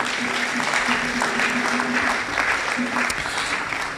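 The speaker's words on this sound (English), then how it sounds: "Please, once again, let's give her a round of applause" A lecture audience at a public lecture applauds steadily, a dense wash of clapping hands sustained throughout, with a faint hum underneath.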